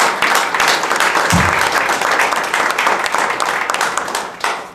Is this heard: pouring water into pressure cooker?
no